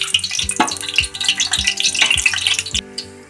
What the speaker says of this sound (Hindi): अब हम इसके अंदर ये साबुत मसाले डाल दे रहे हैं और इसको भून लेंगे।